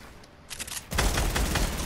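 Video game gunfire that opens with a few quick, lighter shots, then erupts into a loud, dense rapid burst of automatic fire that continues to the end.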